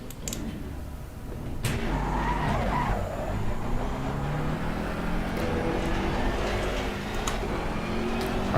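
Ferrari 488 race car in the racing game Assetto Corsa Competizione, its tires skidding over a steady engine drone, with a few sharp clicks, continuous and fairly loud.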